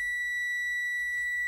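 Continuous steady electronic tone from a multimeter in continuity mode, probing a shorted 1.8 V coil on an original Xbox Jasper motherboard; a single unbroken beep held loudly and close.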